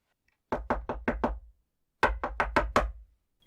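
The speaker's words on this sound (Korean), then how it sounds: "누군가가 대문을 마구 두드려댔다." Someone pounding hard on a gate, heard as two close, loud bursts of five heavy knocks each, separated by a short pause, with silence around them, as an audiobook sound effect.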